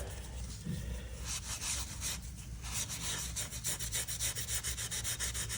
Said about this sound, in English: Now we'll use the SOS steel wool pad.